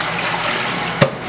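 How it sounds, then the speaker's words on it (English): Potatoes are washed under a steady stream of running tap water, a continuous close rush that ends in a brief splash or clunk near the end, with no talking. "Now I'm gonna wash my potatoes."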